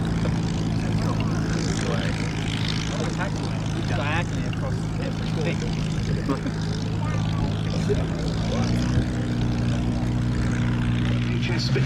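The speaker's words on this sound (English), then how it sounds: "Spitfire, the PR-11 of the Aircraft Restoration Company." A Supermarine Spitfire PR XI of the Aircraft Restoration Company flies at the Duxford Battle of Britain airshow, its propeller engine a steady, loud, continuous drone with shifting pitch, while a commentator talks over it.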